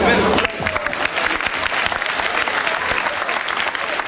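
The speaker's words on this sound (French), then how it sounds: "Applaudissez-vous." A crowd claps steadily at a live piano performance at the TGS 2012 convention, a dense wash of applause that holds throughout, with faint voices mixed in.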